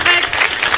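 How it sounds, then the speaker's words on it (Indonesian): Brief burst of audience applause at an idol member's stand-up open mic show, a dense crowd clapping close and loud for under a second, with no talk over it. "Tepuk tangan dulu dong."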